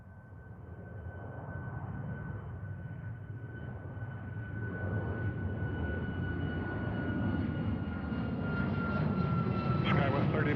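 An Alaska jet airliner takes off from runway 34 right at Seattle-Tacoma Airport, its engine roar building gradually louder and closer, with radio voices speaking faintly in the background.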